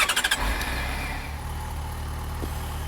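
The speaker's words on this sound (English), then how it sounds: "Now your first job is to start your bike up and leave it running for 5-10 minutes." Yamaha FZ6 motorcycle engine cranking in a few quick pulses, catching, then settling into a steady close idle hum with a slight rhythmic throb.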